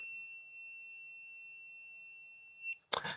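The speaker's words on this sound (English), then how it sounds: "if I do play the sound for the case, this is what it sounds like" Soundcore Liberty 4 Pro earbud case find-device alert: a sustained pure electronic tone sounds steadily, clear and fairly quiet, cutting off near the end before a brief clattering noise.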